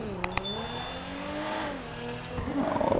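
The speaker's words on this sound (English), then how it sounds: "Oh my god, that sound on the exhaust." A 1600 hp Nissan GT-R sports car in the video game GTA 5 revs its exhaust, a steady, fairly close engine drone whose pitch swells and dips, with brief metallic pings near the start.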